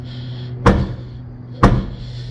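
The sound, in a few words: Volkswagen Virtus car lid being shut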